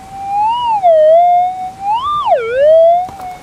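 While prospecting for gold nuggets in Victoria, Australia, a metal detector gives a loud target signal, a pure wavering electronic tone that rises and dips in pitch over several seconds.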